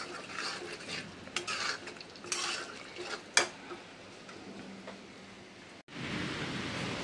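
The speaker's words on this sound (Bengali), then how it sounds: "তো দেখো কত সুন্দর বৃষ্টি হচ্ছে" Steady rain pours down during a thunderstorm, a broad close hiss that fills the whole clip, with a few sharp metallic clinks and scrapes of kitchen utensils over it and a brief dropout near the end.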